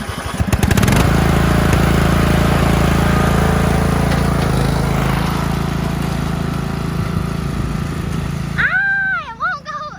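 A Craftsman riding lawn mower engine runs loud and close with a steady, throbbing drone that fades slightly near the end, when a brief high whine sweeps up and down.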